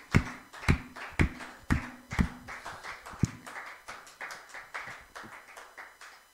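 Church congregation clapping in praise of the Lord at an Easter service, starting with a few sharp, widely spaced claps, then quicker, softer rhythmic clapping, heard fairly close without voices.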